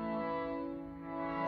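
A harmonium holds a seventh chord as a short, steady, reedy drone, close and fairly quiet, with a slight swell in the bellows toward the end.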